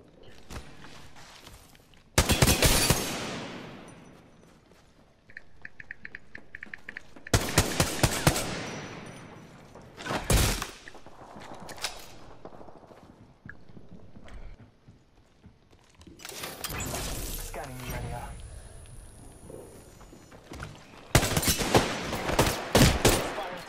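Bursts of automatic gunfire in the shooter game Apex Legends crack out in several separate volleys, loud and close, with quieter gaps of game ambience between them.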